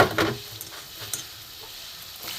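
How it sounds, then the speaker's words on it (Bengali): Chopped papaya going into boiling water in a wok gives a sizzling, bubbling hiss, with a couple of brief splashy bursts near the start and soft clinks, all close and without speech. "জলটা ফুটছে এবার আমি এখানে ছোট ছোট করে পেঁপে কাটা এইটা আমি দিয়ে দেবো জলে"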